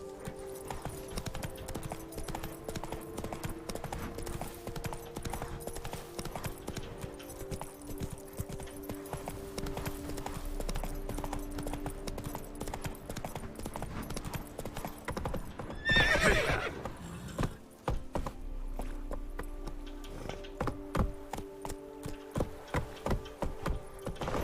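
Geralt's horse Roach from the game Witcher 3 in the Toussaint vineyards, with steady rhythmic hoofbeats galloping throughout and a loud neigh partway through, layered over continuous in-game ambience and music.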